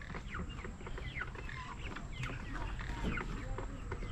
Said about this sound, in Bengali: ব্রয়লার মুরগির খামার